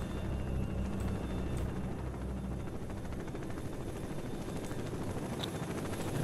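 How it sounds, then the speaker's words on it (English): In the S.T.A.L.K.E.R. shooter game, a military helicopter approaches with a steady, low rotor thrum and engine drone, heard at moderate distance and holding constant throughout. "Military chopper is coming to blow you to pieces."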